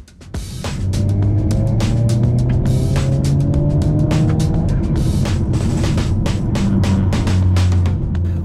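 An Alfa Romeo Giulietta accelerating hard from a standstill, its engine note rising steadily through the revs with a gear change midway, loud and constant from inside the car, with scattered clicks and rattles throughout.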